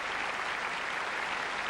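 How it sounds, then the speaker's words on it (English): Steady, dense applause from a large audience as finalists of a national housewife competition come on stage at the Olympia, a continuous wash of clapping with no gaps. "let's have a congratulatory round of applause for all our finalists as they come on stage tonight here in the Olympia"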